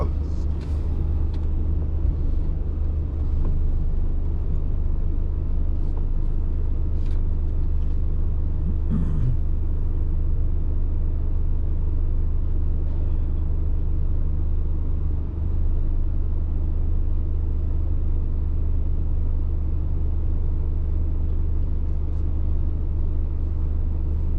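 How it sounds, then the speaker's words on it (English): Traffic flows along Richmond Street in Port of Spain, Trinidad, a steady rumble of cars passing at street level with a constant low drone and a brief brake squeal midway. "The street ahead is Richmond Street with traffic flowing southwards, left to right to left."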